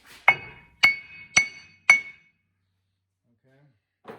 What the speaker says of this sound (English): I'll tap on with my hammer.